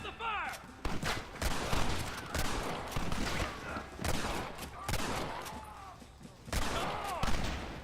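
Sustained shootout gunfire from the Western video game Red Dead Redemption, with rapid overlapping rifle and pistol shots cracking continuously throughout, loud and dense, with shouted voices mixed in.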